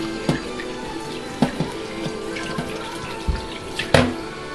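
Running water rinsing a Maine Coon cat during a bath, a steady close splashing stream with scattered drips and soft knocks, no talking.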